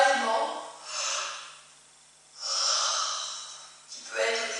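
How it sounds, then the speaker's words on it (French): Slow, breathy yawns during a Do-In self-massage of the jaw muscles, palms pressed over the masseters; three long drawn exhalations rise and fade with short pauses between, close and fairly soft. "Et là, baillez. Vous pouvez vraiment créer un bâillement"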